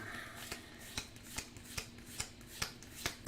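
Trading cards pulled from a Pokémon Scarlet & Violet Obsidian Flames booster box are laid onto a stack, giving soft, evenly spaced card slaps about every half second, close and quiet, with no voices.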